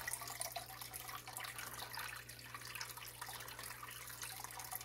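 Water from an aquarium fish tank filter trickles and splashes quietly, a soft, steady, low-level flow with small drip-like spatters throughout.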